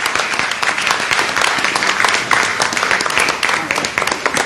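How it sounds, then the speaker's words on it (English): Audience applause at a Toronto anniversary gala, a dense, steady wash of many hands clapping that fills the hall for several seconds at fairly loud, even level. "Give them a big round of applause for all their incredible hard work."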